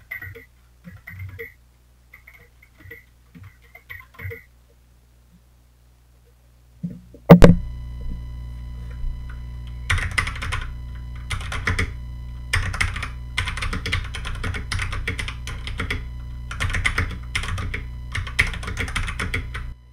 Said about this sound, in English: typing very loudly behind it on a mechanical keyboard